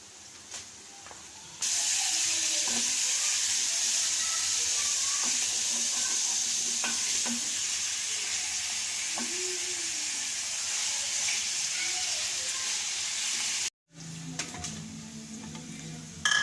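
Chicken pieces sizzle and fry steadily in a karahi with ginger-garlic paste and browned onions, a loud continuous hiss with occasional stirring clatter, starting abruptly after a quieter opening and cutting out briefly near the end.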